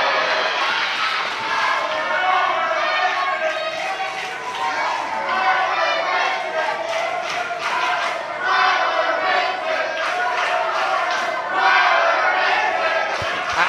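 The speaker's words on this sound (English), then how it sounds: "I would call that a partisan crowd." A partisan crowd at a professional wrestling event roars and shouts continuously, a dense, loud wall of cheering and yelling with rhythmic bursts of noise throughout.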